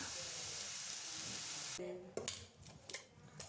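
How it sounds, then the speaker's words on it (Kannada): Momo vegetables frying in butter or oil make a bright steady sizzle for nearly two seconds, then it cuts off and a few clinks and scrapes of utensils follow. "ನೀವು ಇದನ್ನು ಈ ಥರ ಫ್ರೈ ಮಾಡಿಕೊಂಡ್ರೆ ಬೆಣ್ಣೆನಲ್ಲಿ ಅಥವಾ ಎಣ್ಣೆಯಲ್ಲಿ"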